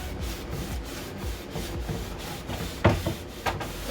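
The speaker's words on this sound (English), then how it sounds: "So now I'm just going to take my cloth and just rub over it." A cloth rubbed back and forth over paint on a weathered wooden planked welcome sign, giving a steady, close scrubbing swish with regular strokes and a couple of sharper knocks near the end.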